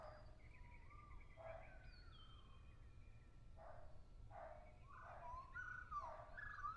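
A dog in a room lets out a series of short, high whimpers and yips, several separate bursts spread over a few seconds, fairly faint with a low hum underneath.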